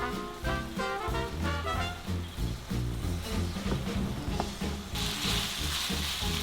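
Minced meat seasoned with black pepper and salt fries in a pan while being stirred, a constant sizzle and crackle under rhythmic scraping, with a sharper hiss rising near the end.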